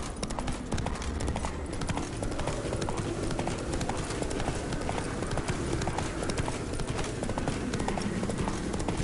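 Horse hooves gallop in a steady, loud, continuous rhythm while riding in The Witcher 3: Wild Hunt, close up and dense throughout, with game music and ambience blended underneath.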